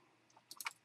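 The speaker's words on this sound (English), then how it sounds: "So let's go ahead and press any key on the keyboard." Computer keyboard keys click in a short, quiet burst of a few taps, with no talking over them.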